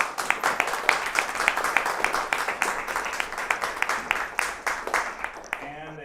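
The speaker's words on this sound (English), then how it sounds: "another round of applause for Dr. Fritz" A modest round of applause from an audience at a talk on semiconductors, individual claps distinct and rhythmic at moderate distance, fading out as a voice begins to speak at the end.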